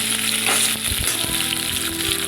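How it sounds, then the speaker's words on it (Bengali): Drumsticks and potato with poppy seeds and green chillies sizzle steadily in a pan, a loud continuous frying hiss with a few soft stirring knocks close by. "সজনে ডাঁটা দিয়ে একটু নেড়ে নিতে হবে"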